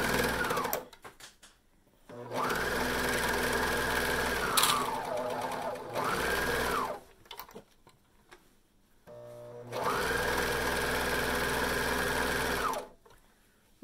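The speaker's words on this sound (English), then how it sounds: "We're going to sew that with a 1/2 inch seam allowance." A sewing machine stitches a half-inch seam in several bursts, each whirring run rising quickly to a steady hum and stopping abruptly, with short pauses between runs.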